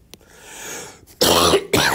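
A person coughs and clears their throat during a trigonometry lecture, a faint hoarse rasp first, then two loud, close, harsh bursts of coughing.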